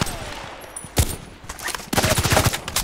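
Rapid automatic gunfire in Contract Wars comes as close, sharp bursts: a single loud shot, then a dense rattling string of rounds toward the end, with quieter gaps between.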